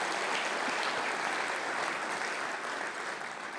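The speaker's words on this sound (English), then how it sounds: "let's give them a big round of applause too" A conference crowd at a CPAC session claps steadily, a dense, even wash of applause filling the room from start to finish with no talking over it.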